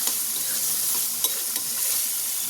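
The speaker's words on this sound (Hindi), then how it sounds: "तो अब इसको ना बड़ी को भी फ्राई करना है इसमें" Badi lentil nuggets fry with potatoes in a pan, a steady close hiss of sizzling oil with faint stirring scrapes throughout.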